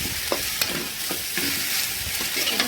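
Taro stolons are tossed and stirred in a spiced pan with dried shrimp, producing a close, continuous sizzle broken by a few soft scraping and knocking strokes.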